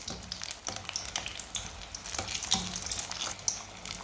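Eggs fry in oil for egg kebabs as they are turned to brown on both sides, giving a steady close sizzle with scattered crackles and the occasional scrape of stirring.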